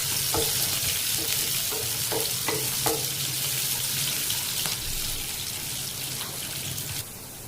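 Onions sizzling in a hot pan while being stirred, with scraping spoon strokes and a rhythmic series of clinks early on over a continuous frying hiss, close and fairly quiet.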